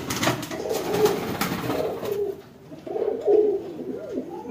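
Several high-flying pigeons coo in low, throaty, rolling calls, overlapping close by, with a busier rustling stretch at the start before the cooing stands more alone.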